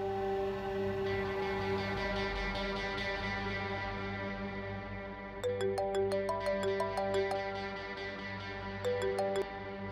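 A phone ringtone plays a repeating electronic melody in short bursts over a steady background music bed, near and clear.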